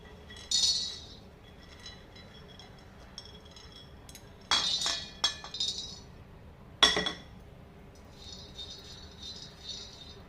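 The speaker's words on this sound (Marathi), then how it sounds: "आपल्याला शेंगदाणे भाजून घ्यायचे आहेत" Peanuts are dry-roasted in a pan and produce scattered rattling and clinking bursts as they are stirred and shaken, with quiet gaps between the bursts.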